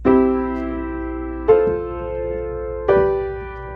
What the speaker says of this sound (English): But if I do it with pedal, it sounds like this.